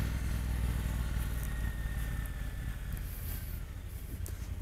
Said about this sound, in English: riding a Triumph T120 after having just ridden the T100